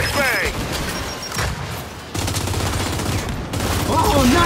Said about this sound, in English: Frag! Out! Fire in the hole! Bring it on! Throwing frag!